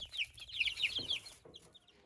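Chickens and roosters on a farm cluck in quick, close bursts, a few short calls over a quiet background.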